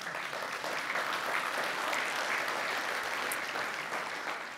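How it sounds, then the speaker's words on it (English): Steady applause from a large audience at the JNUC 2016 Jamf conference, a dense, even wash of many hands clapping that holds throughout and fades slightly at the end. "the reason that people are clapping and this is cool"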